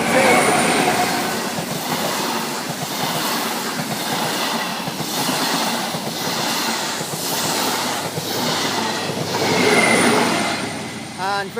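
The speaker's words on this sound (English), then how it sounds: "coming through now will be a HST from London Paddington to Penzance. Coming through slowly" An HST passenger train from London Paddington to Penzance rolls slowly past at Thatcham on the Great Western Main Line, a loud, continuous rumble with wheel clatter and a faint squeal near the end.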